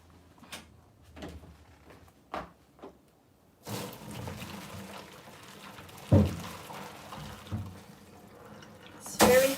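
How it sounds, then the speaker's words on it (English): Hot water from cooked sōmen noodles pours out into a sink as the pot is drained, a broad rushing splash after a few light knocks and clinks, with further clatter near the end. "So I drain it first."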